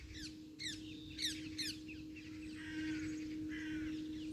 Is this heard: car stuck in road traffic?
no